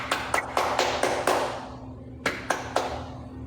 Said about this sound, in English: I'm gonna clap my hands for you.